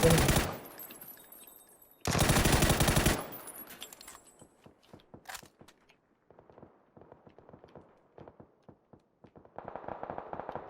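Gunfire in PUBG on the Sanhok map: two loud sustained automatic bursts, then scattered single shots and rapid distant volleys fading and returning, close and far.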